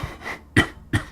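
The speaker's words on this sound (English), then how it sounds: "I almost thought I was done coughing." A person gives a few short, husky coughs close to the microphone, three quick bursts within about a second.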